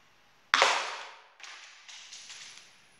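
A homemade coilgun fires a single sharp bang like a small gunshot, followed by a decaying hiss and a few softer clicks and rattles trailing off.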